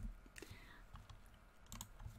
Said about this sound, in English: apparently typing is just not going well for me today